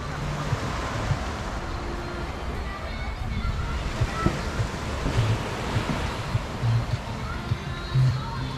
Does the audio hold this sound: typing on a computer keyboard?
no